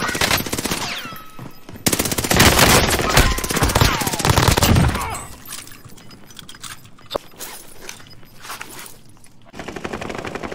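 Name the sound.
gunfire in a video game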